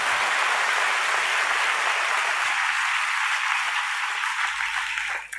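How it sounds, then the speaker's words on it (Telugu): Sustained, dense applause from a crowd at a Christian sermon gathering fills the space as a steady, loud wash of many hands clapping together, tapering slightly at the very end. "కొట్టవయ్యా చప్పట్లో"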